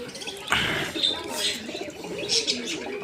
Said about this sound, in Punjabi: ਆਪਾਂ ਦੋ ਕਬੂਤਰ ਨਵੇਂ ਲਿਆਂਦੇ ਆ